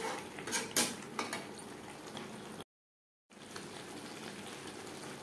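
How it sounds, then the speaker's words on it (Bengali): Water is poured into a pot of potato chicken curry simmering on a high flame, a steady close gush with a few clinks of a pan, broken by a short silent gap before the pouring resumes. "এবার দিয়ে দেব জল।"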